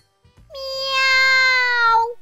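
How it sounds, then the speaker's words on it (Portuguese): A cartoon cat gives a single drawn-out, close meow, sliding slightly downward in pitch over about a second and a half, with faint background sounds around it. "Tinha que aparecer um gato bem agora!"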